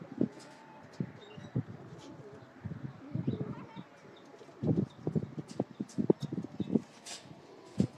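Domestic pigeons in a breeder's loft cooing in soft, repeated low bursts, several birds close by, with faint chirps and light rustling between calls.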